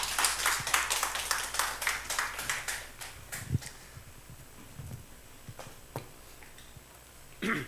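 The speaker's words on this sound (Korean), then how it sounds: "박수로 환영하겠습니다" A church congregation claps in welcome during a Wednesday worship service, a burst of brisk rhythmic clapping that thins to a few isolated claps and light movement.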